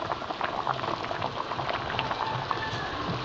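Sinigang na bangus, a milkfish soup, boiling hard in a pot, with steady bubbling and popping at close range, continuous throughout with no talk.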